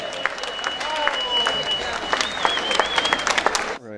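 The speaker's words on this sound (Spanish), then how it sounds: "aplauso, venga." Scattered clapping from an audience at an anniversary celebration, with voices and whistling tones mixed in underneath, ending in an abrupt cut.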